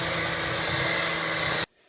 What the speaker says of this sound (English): Let's get the mixer out